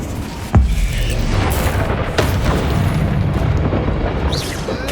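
An Incendio fire spell cast in a wizarding action game inside a catacomb, a sharp burst at the start followed by a sustained roaring, rumbling flame with crackling hiss and scattered pops.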